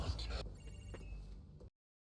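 A short electronic phone ringtone chimes briefly over a burst of talk and noise, then cuts off abruptly into silence.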